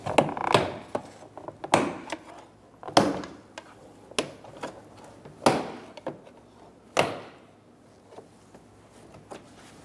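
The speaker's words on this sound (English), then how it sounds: "Using a trim tool, we're going to go around the door, popping the clips." A plastic trim tool pries the door card off a 2014-2018 Chevrolet Silverado rear door, giving about seven sharp, separate pops of clips releasing at irregular intervals, close and loud with quiet handling between.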